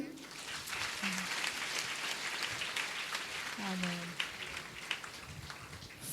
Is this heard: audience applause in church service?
yes